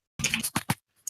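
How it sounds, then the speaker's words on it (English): Brief burst of clattery computer keyboard typing heard over an online voice chat, a few sharp close key clicks in quick succession, with no talk over them. "shut your loud keyboard up"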